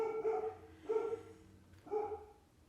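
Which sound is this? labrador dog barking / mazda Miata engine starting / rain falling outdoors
labrador dog barking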